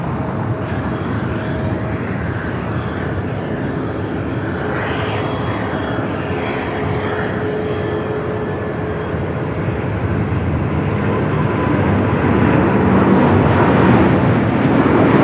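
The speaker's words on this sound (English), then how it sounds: "International Flight 6 taking off to Tel Aviv" An El Al Boeing 787-9 taking off from LAX for Tel Aviv, its engines a loud, continuous roar that builds slightly toward the end with no voices over it.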